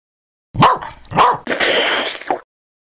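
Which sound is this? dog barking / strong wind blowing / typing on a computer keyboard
dog barking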